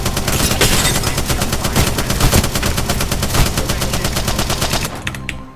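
Sustained close automatic gunfire in Apex Legends, a loud rapid rattle of shots with dense bursts that cut off near the end.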